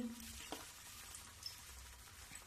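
Spoonfuls of snack batter frying in hot oil in a kadhai give a soft, steady sizzle, quiet and continuous, with a faint clink early on and no talking.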